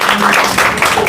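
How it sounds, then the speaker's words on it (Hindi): Students in a coaching class in Patna City burst into brief, loud, close applause, with dense overlapping claps. "इसके लिए तो जोरदार तालियां।"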